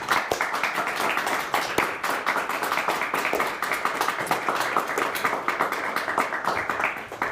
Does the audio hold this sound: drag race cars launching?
no